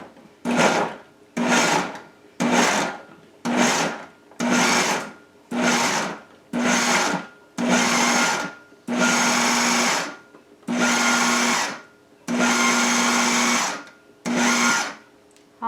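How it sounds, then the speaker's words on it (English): A food processor pulses cauliflower into rice in about a dozen loud bursts of whirring and chopping. Each burst lasts roughly a second, with short silent gaps between them, and the later pulses run a little longer. The machine is close and no one speaks. "All right, let's go to the food processor."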